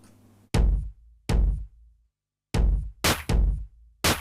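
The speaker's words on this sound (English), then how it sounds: "you remember we had these like treated kick and snare, which sound like this" Processed kick and snare drums from a song hit in a sparse, punchy pattern, each hit loud and close with a sharp attack and a quick cut-off, with gaps of silence between hits.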